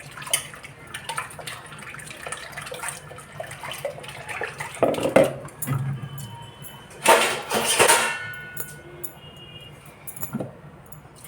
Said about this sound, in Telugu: దాంట్లో నీళ్ళు వేసేయాలి